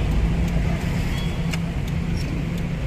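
Steady city road traffic in Davao City, with cars passing continuously at moderate distance and a constant broadband rumble, no clear individual events and no talk.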